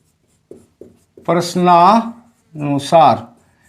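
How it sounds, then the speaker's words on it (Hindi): Pen scratching out the worked solution to a class 8 maths problem, soft brief strokes at the start, then someone speaks at length over any further writing. "तो यहां लिख लेंगे"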